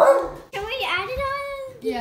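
A hungry pet dog in a home kitchen gives a short yip or bark near the start. Voices talk over and after it.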